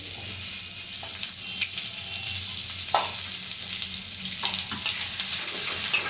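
Chopped onion frying in hot oil gives a continuous, close sizzle, broken now and then by soft stirring knocks.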